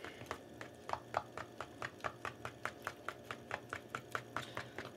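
A utensil beats pancake-like batter for fried Oreos in a bowl, quick regular taps and scrapes repeating steadily and close at a brisk rhythm, fairly quiet.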